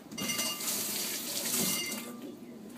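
A kitchen tap runs steadily as a tomato is rinsed under it, a close, continuous hiss of water over the sink with no voices.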